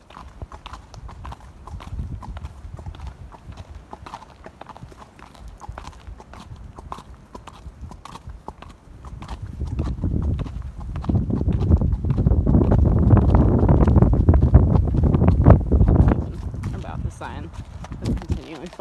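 Horse hooves clip-clop steadily on a hard road, with wind buffeting the microphone and a voice talking at times.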